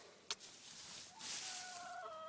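Hens cluck softly inside a chicken tractor coop, with a few short calls and a rising, drawn-out cackle near the end, fairly faint and close, with no talking.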